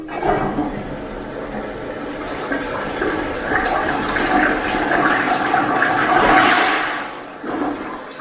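A high tank toilet, converted with a heavy chain pull, flushes with a loud, close rush of water that swells and churns for several seconds before tapering into refilling gurgles.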